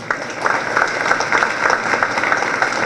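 Audience applause at a Peruvian anticorruption justice system ceremony as court names are announced, steady moderate clapping from a crowd filling the room, with faint voices underneath.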